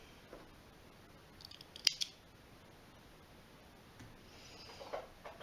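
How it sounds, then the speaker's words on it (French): Scissors snip thread ends after sewing a jersey neckline on a jersey top, a few faint, sharp clicks with one crisper cut near the middle, in a quiet room. "Et on va couper les fils."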